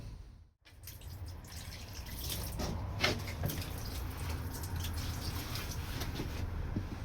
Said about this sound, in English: I've just put some water in there, in the bottom there